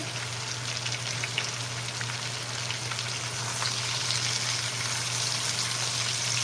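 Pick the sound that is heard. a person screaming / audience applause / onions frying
onions frying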